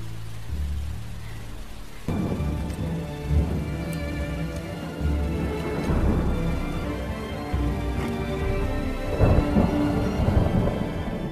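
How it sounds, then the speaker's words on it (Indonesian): Heavy rain pours steadily at night while thunder rumbles through it, with deep rolling swells of thunder rising and falling over the constant rush of the downpour. "Deras hujan disertai petir menghiasi suasana gelap di malam itu"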